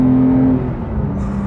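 A manual Porsche 911 GT3 of the 991.2 generation, with a 500-horsepower engine, revs close by. A strong steady engine tone holds briefly, then drops away into a lower, rougher hum.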